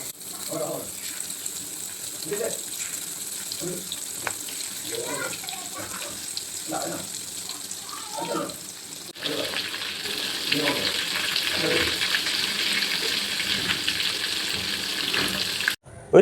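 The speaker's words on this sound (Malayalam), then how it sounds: "എണ്ണ ചൂടായി വന്നിട്ടുണ്ട് നമുക്ക് ഈർക്കിൽ ചെമ്മീനെ അങ്ങോട്ട് എണ്ണയിലോട്ട് വെച്ച് കൊടുക്കാം" Small prawns (eerkil chemmeen) frying in hot oil in a pan: a steady sizzling hiss that grows noticeably louder and denser about halfway through, with faint talk in the first part.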